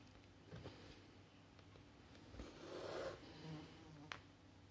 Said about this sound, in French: Toi, la mouche, tu vas te sauver, tu vas pas venir m'embêter.